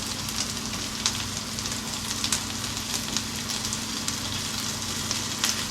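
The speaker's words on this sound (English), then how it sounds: "They've been in the pan for about 3 minutes on the first side, and we're going to give them a flip." Squash or zucchini fritters fry in a pan, a steady dense sizzle with faint crackles and pops running evenly throughout, close and fairly soft, no talking.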